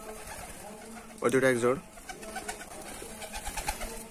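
Rajshahi Giribaj pigeons in a loft give a clear, close bout of throaty cooing that swells and fades, followed by softer rustling and faint bird sounds while someone speaks briefly.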